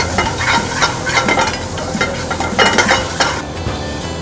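Chopped tomato hits a hot pan already holding chilli, cumin, coriander and garam masala powders, raising a steady close sizzle and frying crackle with stirring scrapes throughout, no voices.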